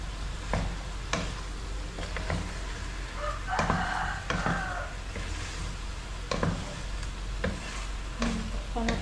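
Chicken pastel gets stirred in a pan, with a steady sizzle under intermittent scraping clicks of a utensil against the pan. A faint hum runs beneath it, and no voices are heard.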